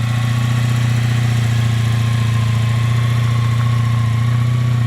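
A Honda Sabre motorcycle engine, rebuilt in cafe-racer style, runs at a steady idle, loud and close, with a constant low rumble and no voices.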